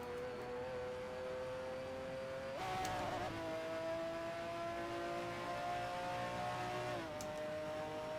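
Racing car driven in the Assetto Corsa driving game, a steady engine whine that jumps in pitch on gear changes and holds at speed, fairly faint and without talking.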